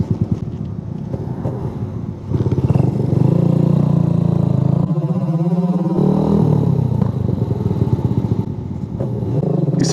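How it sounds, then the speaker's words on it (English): Suzuki GN125 motorcycle ridden along a road, its exhaust burbling and gurgling on overrun over a steady engine drone, with wind rushing across the microphone throughout and no talking. "that gurgle of that Overrun on the exhaust is hilarious"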